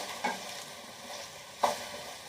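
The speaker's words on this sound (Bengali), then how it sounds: "আলুগুলো ভাজা হয়ে গেছে" Potatoes frying in a pan at home, a soft steady sizzle with two brief scraping stirs, quiet and close, no talk.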